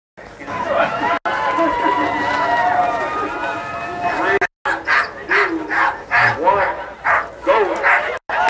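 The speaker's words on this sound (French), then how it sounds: "Devant Nicolier, son traîneau, et donc ses 14 chiens" A team of fourteen sled dogs at the Yukon Quest start line in Fairbanks, Alaska, barks and yips excitedly in dense overlapping bursts, with crowd chatter and an announcer's voice around them.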